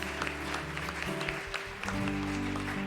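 A church congregation claps during a worship service, with steady scattered applause over sustained organ or keyboard chords that shift partway through.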